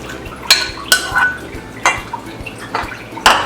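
Chopped tomatoes tipped into a metal bowl of fish stuffing mix for pinaputok na tilapia, giving a few sharp clinks and scrapes of utensils against the bowl, close and clear with no talk.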